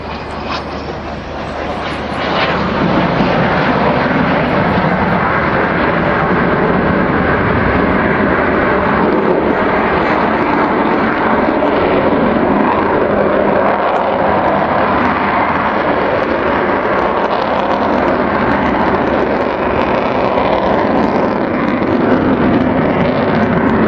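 The Avro Vulcan XH558 delta-wing bomber roars through a flying display at Southport, a loud, sustained jet engine rumble that swells in within the first seconds and holds steady and powerful to the end.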